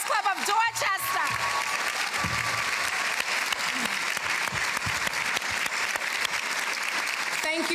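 Sustained applause from a large crowd at a women's leadership awards event, steady and loud throughout, with a few scattered voices and whoops near the start.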